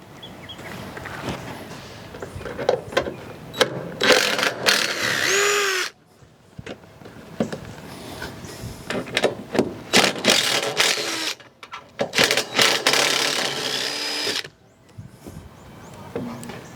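A power drill backs screws out of the wooden deck boards on a trailer, where they thread into the metal frame beneath, in repeated whirring bursts of a few seconds each, separated by short pauses, close and loud.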